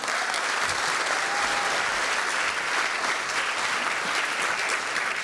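An audience at a spoken-word event applauds for a speaker named Richard, with continuous, even clapping that fills the room at moderate loudness.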